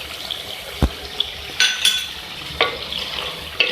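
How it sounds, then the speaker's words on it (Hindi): Beef and potato keema fries in a pan with a soft, steady sizzle, broken by several close scrapes and clacks of a spoon stirring against the pan. "इसकी हम भुनाई कर रहे हैं।"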